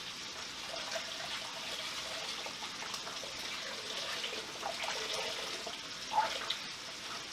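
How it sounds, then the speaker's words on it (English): Canned chicken broth poured from the can into a stew pot, a steady soft liquid splash and trickle running throughout at moderate level, with a brief louder splash near the end. "And then of course we need chicken broth. So we'll go ahead and put 1 can of this in there."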